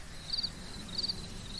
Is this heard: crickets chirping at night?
yes